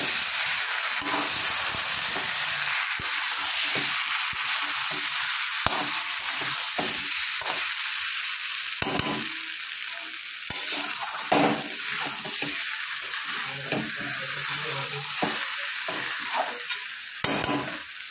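Chili powder and cumin sautéing for a fola fish curry, a loud continuous hissing sizzle with bursts of steam and scraping stirring strokes throughout, close and steady with no talk.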